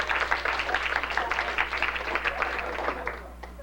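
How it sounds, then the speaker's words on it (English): At a 1998 fan convention, the audience claps for a costume contestant, a moderately loud burst of applause with murmuring voices that fades over a few seconds. "A round of applause."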